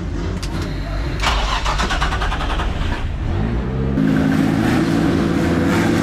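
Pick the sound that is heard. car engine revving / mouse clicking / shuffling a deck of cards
car engine revving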